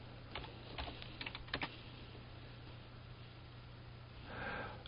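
Light clicking of a computer keyboard, a few scattered bursts of keystrokes, faint and close in a quiet room with a low steady hum underneath.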